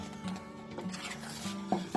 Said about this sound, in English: I'm going to fold in the egg whites